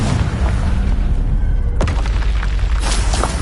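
Loud, deep boom of a Confringo blasting-spell explosion in the Hogwarts Legacy video game, a single sharp burst midway through amid a constant roar of game sound.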